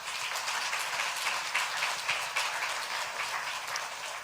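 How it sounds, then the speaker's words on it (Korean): A church congregation at a Sunday service claps to welcome visiting guests, a moderate, steady wash of applause that continues evenly throughout. "박수로 한번 환영하겠습니다"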